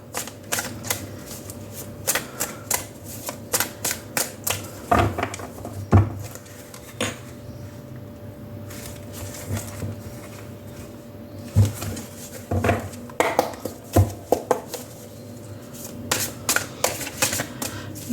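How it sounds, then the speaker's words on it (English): Cards being shuffled in repeated quick riffling bursts, crisp and close, with brief pauses between rounds and no talking. "When I start talking and I'm shuffling, I tend to forget whether I've cut the deck or not."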